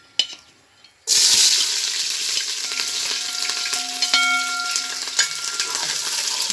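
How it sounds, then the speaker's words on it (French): Onions dropped into hot oil, bursting into a loud, sudden sizzle after a quiet moment and then frying steadily up close with light stirring. "Une fois que notre huile a chauffé, nous allons y mettre les oignons."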